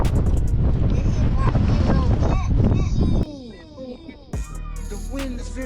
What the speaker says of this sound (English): The wind is very windy.